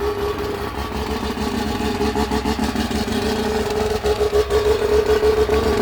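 Bridgeported rotary engine in a 500 hp Mazda Eunos Cosmo with dual exhaust, heard idling close by: a loud, continuous, choppy burble with a steady low pulsing throb and no speech.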